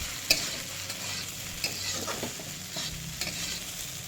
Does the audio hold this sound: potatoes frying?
yes